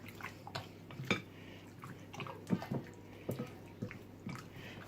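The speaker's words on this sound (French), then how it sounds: "Je vais bien mélanger." Skinless chicken wings being mixed by hand in a wet marinade in a bowl, giving quiet, close, intermittent squelches and soft clicks in an irregular rhythm, with no talking.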